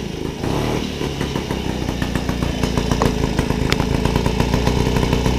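A moped engine runs at a fast idle with a worn variator bearing, giving a busy, buzzing mechanical clatter with ticking and rattling that grows slightly louder partway through.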